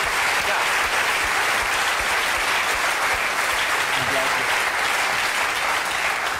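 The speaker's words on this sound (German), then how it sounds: "kriegt Frau Fuchs erstmal einen kleinen Applaus" Studio audience at a German TV quiz show gives Frau Fuchs a dense, steady round of applause, loud and unbroken throughout.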